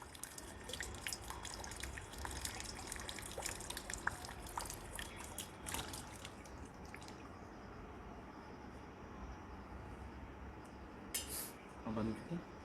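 Water trickles and drips from the nostrils during a jal neti nasal rinse, quiet and close, with scattered splashes and faint background voices.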